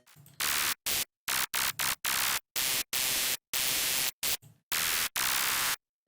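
A noisy wavetable patch built in FL Studio's 3xOsc plays as a run of choppy bursts of harsh, hissing static, each abruptly cut off by short silences, loud and with no speech.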